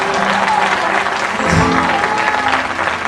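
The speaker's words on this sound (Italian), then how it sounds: "È brava, un applauso alla ragazza." Brisk applause from a crowd at a live comedy show in Rome, continuous and fairly loud throughout with a faint voice briefly underneath.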